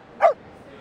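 A border collie in the video game Reverse: 1999 gives a single short, clear bark that rises and falls quickly, standing alone against quiet background.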